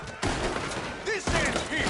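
Gunfire in Red Dead Redemption 2 during a gang shootout, a dense burst of loud shots and thumps with a brief pause, heard under shouting voices.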